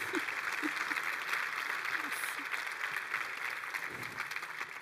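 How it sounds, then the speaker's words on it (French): Sustained audience applause at a local life awards ceremony in Grand Angoulême, a steady wash of clapping running through the whole stretch with faint voices beneath. "je voudrais qu'on les applaudisse parce qu'ils ont vraiment fait un super boulot"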